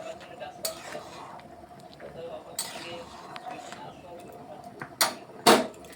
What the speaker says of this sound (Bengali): আমি এখানে চালের গুঁড়ো গুলে নিয়েছি, এটা আমি দিয়ে দিচ্ছি। ভালোভাবে একটু নেড়ে চেড়ে মিশিয়ে নিচ্ছি।